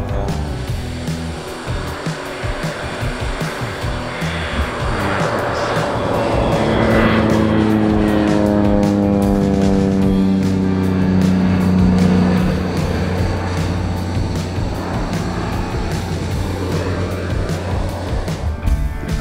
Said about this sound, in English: That's what you're hearing, is that biplane